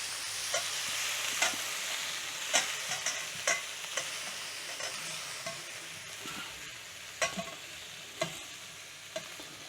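Meat cooking in a frying pan with no Teflon coating, a soft continuous sizzle with repeated light utensil scrapes and taps throughout, close but fairly quiet.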